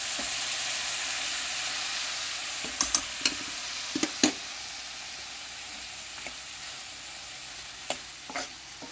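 Ridge gourd curry with chana dal frying in a pan, a steady soft sizzle with scattered scrapes and clinks of a spoon stirring now and then.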